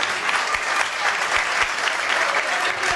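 Audience applause at an Italian gala concert greets a singer as he comes on stage, a steady, dense clapping from a large crowd that fills the whole stretch without talk over it.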